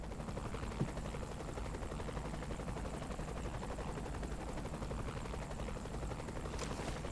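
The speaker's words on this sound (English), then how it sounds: "I'll follow in the chopper." Helicopter flying in Saints Row 3, a steady loud rotor and engine roar filling the whole stretch without pause or change.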